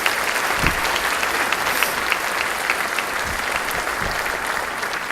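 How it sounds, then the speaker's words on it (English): An audience at an evening gala event gives sustained, even applause, a dense wash of many hands clapping that holds at a steady level for several seconds without talk. "how about a big round of applause for the production crew?"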